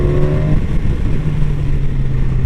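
A 2016 BMW S1000XR motorcycle engine revs with a deep, throaty burble, loud and close, sustained for a couple of seconds with a slight pitch rise and no talking.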